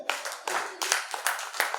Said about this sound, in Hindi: ऐसा है, ताली बजा के बता दें।